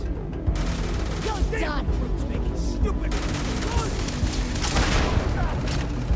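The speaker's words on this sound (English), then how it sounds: "Okay, this gun does more than I thought it does. I thought it was just a nice shotgun." Shotgun blasts in the space game Starfield come as loud, booming, irregular shots over heavy combat noise, with a voice talking briefly.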